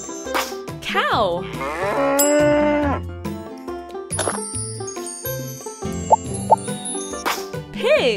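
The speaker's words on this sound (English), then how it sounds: "Cow." A cow moos in long, loud, drawn-out calls close by, with playful game jingles and a couple of bright dings around it.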